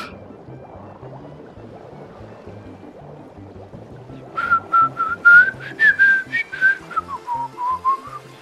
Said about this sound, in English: having someone whistling directly in your ear through Skype is one of the less lesser pleasant sounds